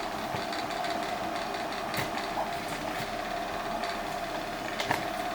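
A steady, dense mechanical whir with fast rattling clicks from a BigDelta 3D printer printing 40% honeycomb infill, continuous and fairly close with a few sharper ticks.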